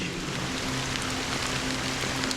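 Steady rain falling in Honkai: Star Rail, a dense continuous hiss of drops pattering evenly throughout with no pauses, alone without voices.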